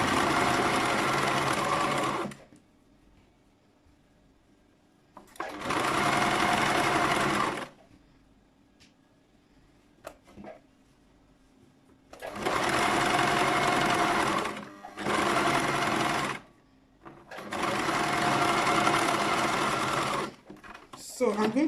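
A sewing machine stitches a braided turban hat in four bursts of fast, even running, each a few seconds long. Quiet pauses separate the bursts, with faint handling clicks in between.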